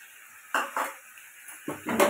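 Ginger garlic paste is stirred in a cooking pan, a few soft scraping and clinking knocks of a spoon against the metal, quiet and close.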